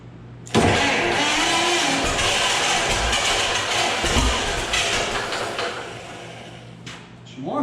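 A John Deere WA tractor engine, being rebuilt and choked, catches and runs loudly and up close for several seconds with a rough, uneven idle that dips and swells before cutting out near the end.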